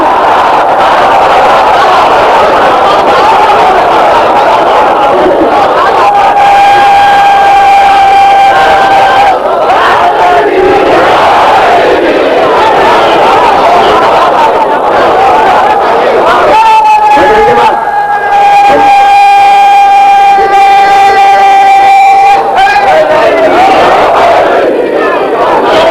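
A large crowd at a religious gathering in Model Town, Lahore, loudly shouts a slogan in unison, with rhythmic chanted phrases and sustained collective cries repeating over roughly half a minute, close and very loud.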